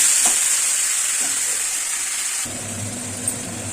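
Onion, garlic, ginger and cumin masala paste frying in a pan for a prawn and jackfruit curry, a steady close sizzle with a short stir and clatter partway through.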